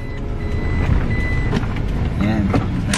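Steady reversing beeper from a vehicle backing up, repeating tones over traffic and engine rumble on a busy street, with people talking nearby.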